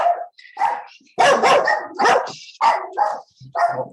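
Several dogs bark in short, loud bursts, some sharp and yappy, others lower, in a quick irregular series with brief pauses between.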